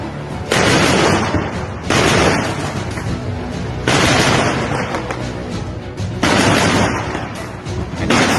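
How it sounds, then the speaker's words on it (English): An autocannon on a BMP infantry fighting vehicle fires during fighting in the Russia-Ukraine war, heard as four long, loud bursts of rapid, dense shots separated by brief lulls. "this is the sound that this cannon makes on this BMP"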